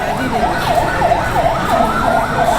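Ambulance siren wailing at a station during a victim evacuation, a rapid rising-and-falling yelp that repeats about three times a second, loud and steady over traffic noise.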